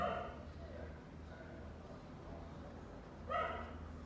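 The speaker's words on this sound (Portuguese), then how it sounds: "Olha os cachorrada latindo agora." Several dogs bark in the distance outdoors, with a few short bursts near the start and a louder cluster toward the end over a low background hum.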